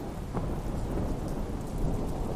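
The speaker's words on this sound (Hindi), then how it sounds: "बाहर बहुत जोर की बारिश और तूफान हो रहा है।" Heavy rain pours steadily in a cartoon thunderstorm, a dense hiss with low thunder rumbling underneath, constant and fairly loud, no speech.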